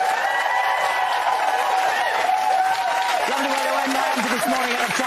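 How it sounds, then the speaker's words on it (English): Studio audience applause on a TV talk show, sustained clapping and crowd noise heard under a steady tonal backing, continuous and fairly loud throughout. "Give me a round of applause"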